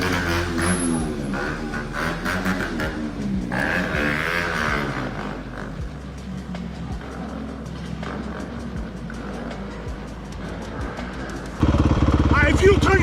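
Motorcycle engines idle and rumble loudly on a roadside during a confrontation between bikers and others, a steady low drone under agitated voices, surging louder near the end.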